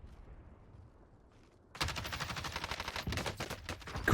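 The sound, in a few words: gunshots in the Warzone video game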